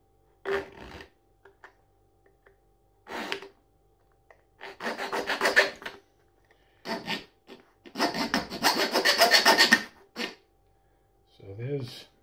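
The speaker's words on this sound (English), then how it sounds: "is the file, because what I need to do is make 4 little notches around the edge there" Short bursts of metal file rasping as notches are cut into an alcohol field stove with the file of a Victorinox Swiss Champ multitool, several strokes separated by pauses, close and fairly quiet.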